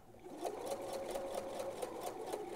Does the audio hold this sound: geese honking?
no